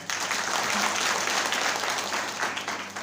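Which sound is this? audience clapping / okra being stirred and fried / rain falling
audience clapping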